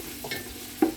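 Chopped onions fry in a pan for a village dish, giving a low, steady sizzle that is stirred now and then, with one louder scrape near the end and no voices.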